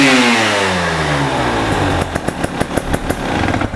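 A 2024 KTM 300 hard enduro motorcycle engine runs loud and close, with a rising rev that settles into a rapid series of sharp throttle blips toward the end.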